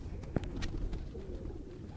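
Lakha pigeons coo softly on a Lahore rooftop, with a few low throaty calls over a murmuring ambient background.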